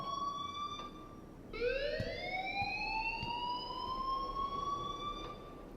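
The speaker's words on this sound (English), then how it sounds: "please turn off that alarm since that's your job" A school fire alarm in the Life is Strange video game sounds as a steady electronic tone that cuts out briefly, then returns with a rising sweep and holds loud and continuous.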